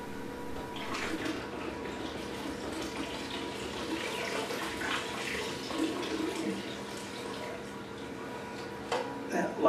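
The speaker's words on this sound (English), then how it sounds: "with a snail shell getting stuck on the inlet side of my siphon, I end up losing the siphon." Water from a 300-gallon reef tank drains through a siphon hose into a container in a steady, faint, rushing trickle that turns gurgly and uneven near the end as suction is lost.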